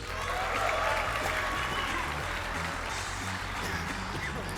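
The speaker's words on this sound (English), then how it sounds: "Let's give them a round of applause." A crowd at a wrestling show applauds and cheers for wrestlers Kris and Jenn, a steady, moderately distant wash of clapping and voices with low rumble underneath.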